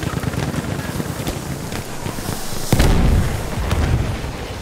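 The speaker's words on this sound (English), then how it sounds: "They're mortaring." Mortar shells exploding in the video game Battlefield 1, a heavy distant boom landing midway over a constant rush of wind and muffled battlefield rumble.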